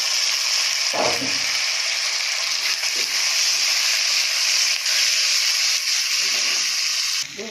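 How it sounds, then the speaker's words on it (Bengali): Chopped onions and tomatoes frying together in a pan make a continuous close hiss and sizzle, broken by a few soft stirring knocks, with no voices. "আমার পেঁয়াজ ভাজা ভাজা হয়ে এসছে"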